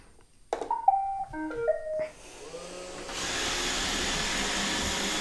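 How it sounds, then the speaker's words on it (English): A Roomba robot vacuum runs near the top of a staircase, starting with a few short electronic beeps before settling into a steady, close whirring motor hum. "Roomba, hopefully you don't dive off of here"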